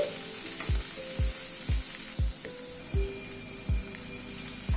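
Salt stirred into a frying mixture in a pan, with a steady bright sizzle throughout and a series of regular low thuds and scrapes from the spoon about every half second, close and clear with no talk.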